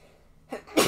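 A single sneeze bursts out near the end, preceded by a short sharp inhale, close and fairly loud against a quiet background.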